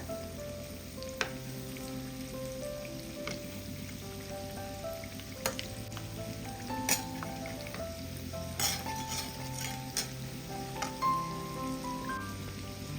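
Appam batter frying in hot oil, a continuous crackling sizzle close by with scattered sharp clinks of a utensil against the pan throughout.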